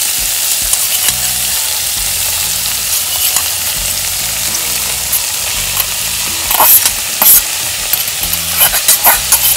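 Saltfish sizzles and fries in a pan with plantains pushed aside, a steady loud hiss close up, broken by scraping stirs of a utensil against the pan.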